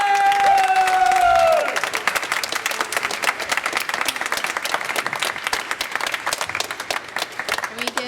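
Concert audience applauding at a high school band spring concert, with a sustained instrumental note fading out at the start before loud, dense clapping and some cheering fill the rest.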